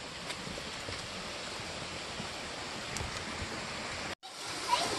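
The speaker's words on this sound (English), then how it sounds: "There's a little waterfall here." A small waterfall pours into a reservoir, a steady broadband rush of falling water heard close and continuous, with a brief dropout near the end.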